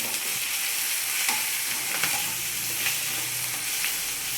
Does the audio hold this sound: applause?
no